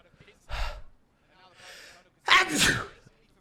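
An esports commentator at an Overwatch match between Dallas Fuel and Paris Eternal sneezes, a sharp explosive burst after a couple of quick inhalations, close to the microphone.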